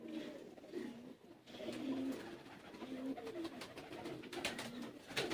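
A pure kamagar pigeon coos close by in low, rolling, repeated phrases, soft and throaty, with faint background noise and no talking.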